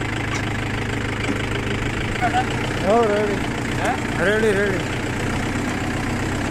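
A tractor engine idles with a steady low rumble throughout, while people talk over it close by.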